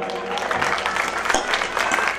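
An audience claps together in a steady, dense burst, many hands close by filling the room without pause.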